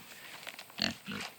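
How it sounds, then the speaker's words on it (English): A few short grunts and snuffles from Kunekune pigs grazing on pasture, close and quiet, with a slightly louder grunt in the middle. "These are Kuni pigs."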